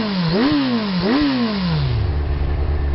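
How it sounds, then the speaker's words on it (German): A Kawasaki Z1000R motorcycle engine fitted with an aftermarket exhaust system revs loudly, with two sharp blips rising and falling before the note settles into a steady, throaty idle close by. "Der Sound ist schön mit der Auspuffanlage."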